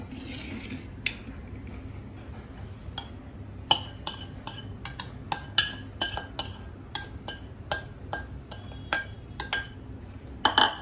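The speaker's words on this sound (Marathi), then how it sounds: "आणि हा सगळा मसाला आपल्याला कैऱ्याच्या फोडींना टाकायचा आहे." Spice masala being mixed into raw mango pieces for Maharashtrian mango pickle, heard as a series of sharp metallic clinks and taps of a spoon against a steel vessel, irregular and close, over a low background hum.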